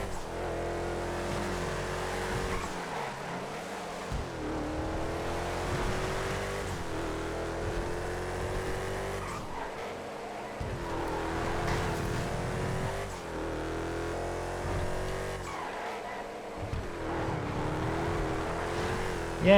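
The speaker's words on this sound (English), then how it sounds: "Just listen to the engine." A car engine in GTA Online roars through a lap, revving up repeatedly with rising pitch, dropping on each gear change or lift, steady and up close throughout without speech.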